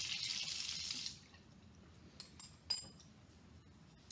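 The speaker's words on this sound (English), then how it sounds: "Give my stir rod a rinse." Water runs briefly over a lab stir rod during a rinse, a soft splashing wash for about a second, followed by a few light, close clinks and drips in a quiet room.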